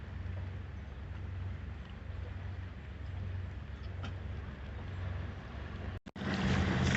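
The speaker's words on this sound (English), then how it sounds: "There's no wind, so we're motoring now." A sailboat motors along on engine power in calm, windless air, a steady low rumbling drone with broadband water and wind wash, continuous and even, broken by a brief dropout near the end.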